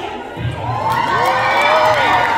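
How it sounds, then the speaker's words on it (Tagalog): A crowd at a Filipino community fiesta in South Korea cheers and claps loudly in a practice round, with rising whoops and shouts, some high and childlike, sweeping over a continuous roar. "lakasan natin ang palakpakan na practice muna"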